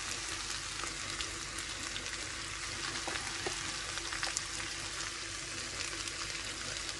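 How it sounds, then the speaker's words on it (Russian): Onion and bell pepper fry in a pan while being stirred, giving a continuous close hissing sizzle with faint scraping and no talking. "перемешиваем, еще немножко жарим, чтобы у нас овощи, лук и болгарский перец были альденте"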